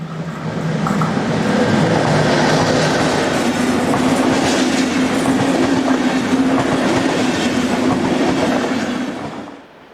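A DB Class 101 electric locomotive hauls an intercity train from Passau to Hamburg through a station, a loud, steady rumble with clattering wheels that holds for about ten seconds before easing off at the end.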